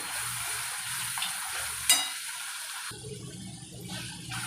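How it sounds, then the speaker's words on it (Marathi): Tomato puree frying in oil for Baroda-style shev usal, a close, steady sizzle with the scrape of stirring and one sharp clink, the texture shifting partway through. "आता आपण त्याच्यात टॅमॅटो प्युरी टाकूया आणि ती पण चांगली तेल सुटेपर्यंत परतून घेऊया चांगली."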